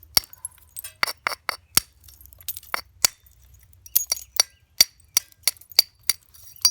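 A hammerstone strikes the edge of an obsidian slab, producing a series of sharp, glassy clinks and ticks at irregular intervals, close and crisp against near silence.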